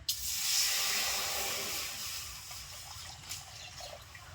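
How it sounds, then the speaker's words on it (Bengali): Water hisses and steams in a hot wok on a lit stove, a steady airy rush that fades slightly over a few seconds, heard alone at close range. "জল দিয়ে দিচ্ছি কড়াইতে"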